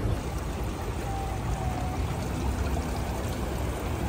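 Water pours from a fountain in Dubai, a steady, close rushing splash that runs unbroken the whole time with no voices over it.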